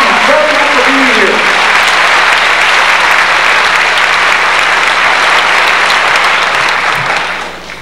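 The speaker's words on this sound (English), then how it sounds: "Give him a big round of applause." An audience claps enthusiastically in a loud, sustained round of applause at an Air Force band showcase concert, fading out at the end. A voice is briefly heard at the start.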